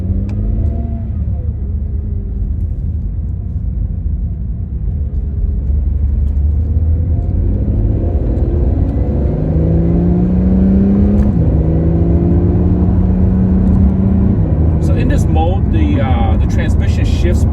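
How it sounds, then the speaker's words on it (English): A 2022 Acura NSX Type-S in Sport Plus auto mode accelerates with a steady loud engine rumble, rising revs and a couple of quick aggressive upshifts, heard from inside the car. "The transmission shifts pretty aggressively."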